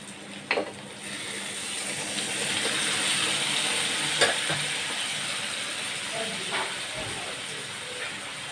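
Poa fish fried in a pan hisses and steams loudly as water is poured in. A broad sizzle swells and settles, with a few scattered clinks and scrapes of a spatula.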